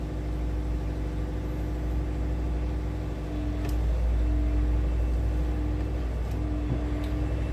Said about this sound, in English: He's coming around with the tractor to pull the dust down.